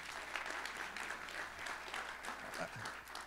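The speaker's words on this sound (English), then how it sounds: "big round of applause" Audience applause at the opening of a school pitch-competition event, a steady wash of clapping from a room of people continuing throughout at moderate level, with some voices mixed in.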